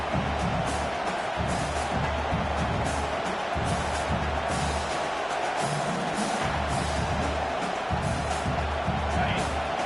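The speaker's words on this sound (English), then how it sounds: "Big 3rd down as the crowd gets behind this defense." Crowd noise fills a college football stadium during a USC vs Texas game, a steady broadband roar of fans rallying behind the defense on a big third down, sustained and loud throughout with faint talk mixed in.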